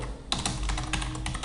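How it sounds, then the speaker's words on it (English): Quick bursts of key presses on a computer keyboard, a short run of close, crisp clicks typed in rapid succession with no speech. "I'm going to type in the browser download"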